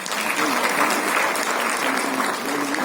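An audience at a motivational talk claps steadily throughout, a dense, continuous wash of applause at fairly even loudness with no voices standing out.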